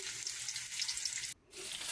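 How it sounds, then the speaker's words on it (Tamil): Steady crackling sizzle of mustard seeds spluttering in hot oil for tempering mint rice, dense and close, with a brief gap before the popping resumes. "எண்ணெய் சூடான உடனே கடுகு வந்து போட்டுடலாம் கடுகு வந்து பொறிஞ்ச உடனே"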